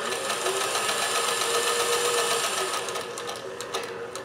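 Chain-stitch sewing machine, a vintage Singer 431G or Kenmore 158, running steadily on its longest stitch setting, a continuous close whirring hum with a rapid mechanical clatter that eases slightly near the end, with no talking.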